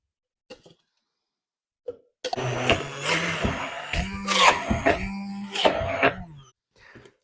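A blender whirs in several bursts, chopping garlic scapes with butter, starting and stopping repeatedly, loud and close, with a few soft clicks before it begins.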